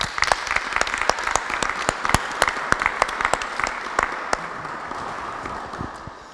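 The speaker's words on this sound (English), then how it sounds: "I think you also deserve an applause because you really loved your presentation" A conference audience claps for a presenter, a moderately loud burst of scattered, individually distinct hand claps that thins and fades toward the end.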